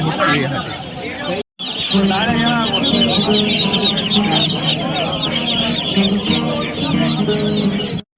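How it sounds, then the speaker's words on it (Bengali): Ducks and chickens cluck and quack in a crowded animal market, the fowl calls mixed into a dense, loud babble of people talking and haggling nearby. "এগুলো সবই কিন্তু হাঁস আর মুরগি"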